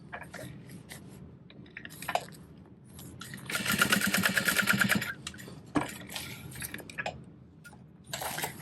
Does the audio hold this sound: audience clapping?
no